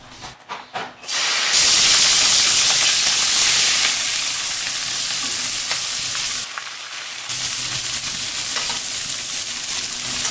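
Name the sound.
greens and green chillies frying in a wok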